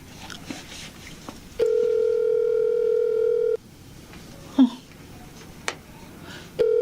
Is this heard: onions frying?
no